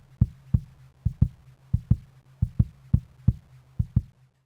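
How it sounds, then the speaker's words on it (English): An isolated kick drum body from a mix thumps in a steady beat, with about a dozen deep, short, punchy hits arriving in pairs, each decaying quickly, heard alone and fairly close. "Next up is the body of the kick, which sounds like this."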